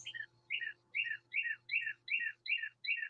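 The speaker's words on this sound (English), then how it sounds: "Yeah, I'm on a screen porch. You hear birds, that's why." A bird outside a screen porch repeats a bright two-part chirp about every half second, eight clear calls in a row, close and alone over a faint low hum.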